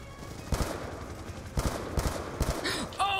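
Friendly gunfire in Call of Duty: Black Ops 2 comes as several separate short bursts of shots spaced about a second apart, moderately loud over quieter game ambience.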